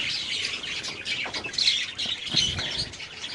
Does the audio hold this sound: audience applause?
no